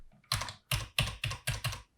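A computer keyboard's control and arrow keys are pressed while objects are moved in TinkerCAD, giving six crisp, evenly spaced key clicks close to the microphone with no voice over them.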